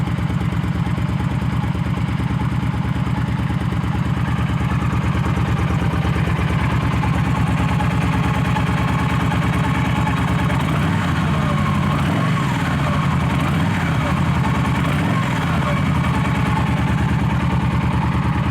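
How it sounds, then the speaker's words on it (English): Yamaha V-Star cruiser motorcycle with a stock muffler idling steadily close by, a continuous low, even rumble with a few slight revs near the end. "Versus the sound of the V-Star."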